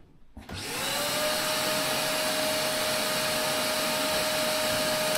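A grain dryer's suction fan, opened up for cleaning and repair, spins up after a brief quiet start and then holds a loud, steady whooshing roar with a faint whine on top.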